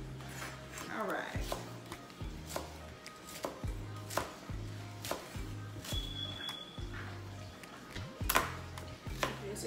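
A knife chops onions on a cutting board for a chicken chop suey recipe, in a steady run of sharp, close knocks about every half second, with a few brief pauses.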